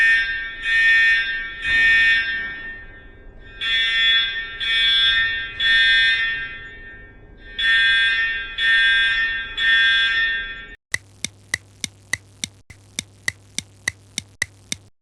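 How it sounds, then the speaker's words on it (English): A fire alarm sounds in a loud electronic pattern, repeated groups of three shrill tones separated by pauses, then switches to a rapid series of sharp clicking pulses near the end. "I'm going to put the fire alarm."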